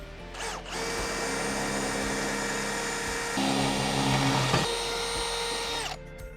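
A power drill tightening bolts on a TCX tray runs in one long, steady, close whine for about five seconds, rising slightly in pitch partway through, before stopping abruptly; no voices.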